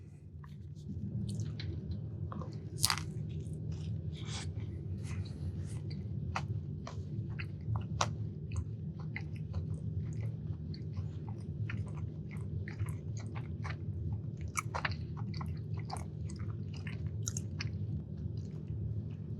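Close, steady chewing and crunchy bites of a taco with refried beans between a soft and a hard shell, with sharp crunches scattered through continuous wet mastication.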